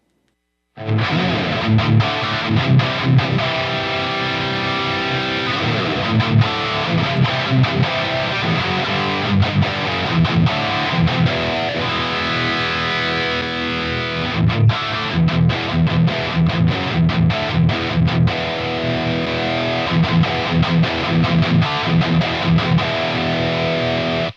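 A heavily overdriven electric guitar plays chugging, palm-muted riffs through a Friedman IR-J amp with its gain boost switched on, thick and saturated, continuous and loud with no talking.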